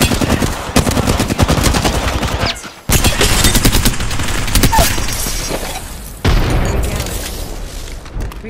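Rapid automatic gunfire from the Apex Legends video game, loud bursts of machine-gun fire broken by two short pauses, with heavy booming shots mixed in.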